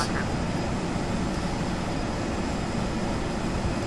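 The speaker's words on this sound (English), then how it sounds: "I don't know if there's a way to lower the exterior spot view noises." Exterior engine noise of an ERJ-145 regional jet in a flight simulator, a steady broadband jet roar and whine held at constant loudness with no breaks, close and enveloping.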